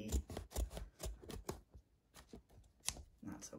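Scissors snip through excess felt trimmed from oversized pieces for a felt play food set, giving a quick run of crisp, close cutting clicks with brief pauses between them.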